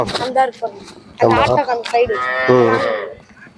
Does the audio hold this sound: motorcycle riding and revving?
no